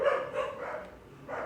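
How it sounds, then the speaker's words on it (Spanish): Small pet dogs bark in a few short bursts a little way off, moderately loud against a quiet room, with no talking. "Perdón por el ruido de mis perritos."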